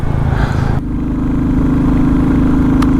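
A Royal Enfield Classic 350, a single-cylinder air-cooled motorcycle, runs up close with a loud, even thumping idle after a brief rougher burst at the start.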